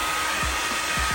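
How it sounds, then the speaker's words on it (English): A household hair dryer runs steadily at close range, a loud continuous blowing roar that barely changes across the whole moment, used to heat a car emblem or decal for removal. "using the wife's hair dryer"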